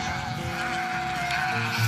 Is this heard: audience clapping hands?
no